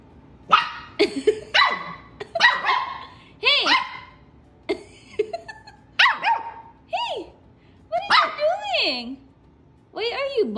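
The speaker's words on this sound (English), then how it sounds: "Barking" A corgi barks in short, repeated yaps and whiny bursts, close by, with brief pauses between them.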